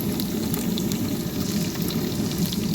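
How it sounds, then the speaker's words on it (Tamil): Garlic sautés in a pan with radish leaves, a continuous close frying sizzle with soft crackle and no voices. "நல்லா வதங்கட்டும். பூண்டு சேர்த்துருக்காங்க."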